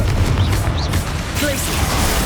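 Spell blasts in Hogwarts Legacy, including Bombarda and Confringo explosions, a steady loud rumble of bursts and booms with a brief whoosh, under game combat noise.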